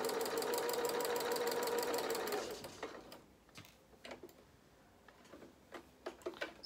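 A domestic sewing machine stitches the seam of a toy bear's head in a steady fast run of needle strokes for about two and a half seconds, then stops, leaving scattered light clicks and handling noises.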